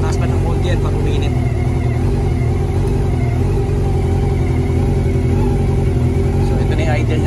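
A Honda CB400 Super Four motorcycle with a busted rectifier idles nearby in a loud, steady, low throbbing rumble while a person talks over it.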